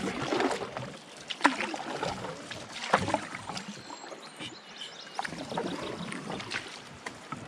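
A canoe is paddled through the Boundary Waters wilderness, with irregular splashes and dips of the blades, water swirling and light wind buffeting the microphone, close and uneven.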